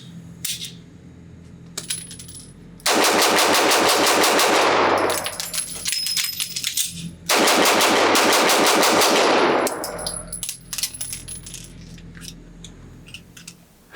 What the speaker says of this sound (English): So let's see how fast I can shoot this, exchange the magazines,